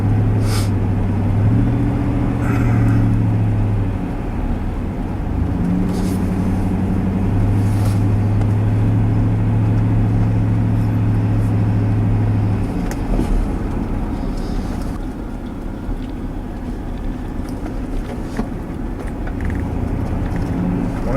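A car with an old pink 427 engine under the hood idles steadily nearby, a low continuous rumble with a few faint clicks and no voices.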